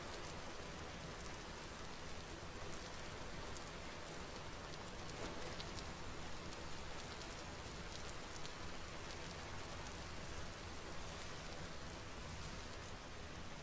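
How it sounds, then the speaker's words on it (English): Steady, dense rain falls continuously in the video game Vintage Story, a constant hiss of drops on surfaces with no pauses, fairly loud and filling the scene without any talking. "God, I can't hear anything over this rain."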